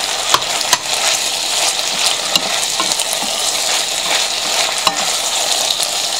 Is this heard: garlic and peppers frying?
yes